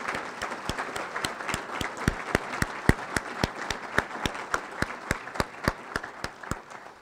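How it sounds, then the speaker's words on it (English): Audience applause for an event's organizing team, a steady run of individual claps repeating at an even rhythm throughout, moderately loud and without talk. "give the JES team a round of applause for everything they've done for us"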